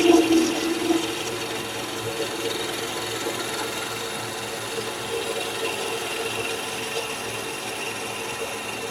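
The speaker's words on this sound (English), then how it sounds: "So I'm going to turn a planing cut with just a regular wood chisel." Wood chisel with its bevel down, taking a planing cut on a spinning workpiece on a wood lathe; a steady rough scraping rasp runs throughout with a low motor hum underneath.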